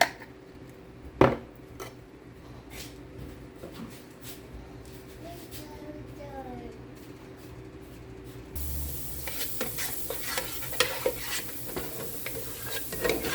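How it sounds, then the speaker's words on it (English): Minced garlic going into hot olive oil in a pan: a quiet stretch of faint clinks and stirring, then a sudden steady sizzle that swells and stays loud with crackles to the end. "while our olive oil is getting hot, put our minced garlic in there"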